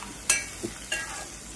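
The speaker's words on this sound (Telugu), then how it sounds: "ఆ కట్ చేసుకున్న ఆనియన్ని అందులో వేసి మిక్స్ చేసుకొని బాగా ఫ్రై చేసుకోవాలండి." Chopped onion fries quietly in a pan while a spoon gives a few scattered scrapes and taps, faint and brief over a soft sizzle.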